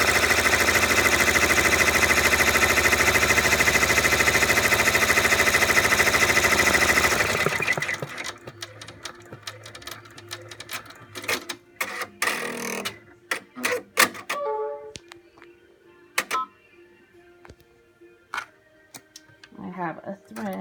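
Sewing machines stitching the seams of a bow and a faux knot, a loud dense mechanical whir for about seven seconds that stops abruptly, followed by scattered clicks, taps and handling noises.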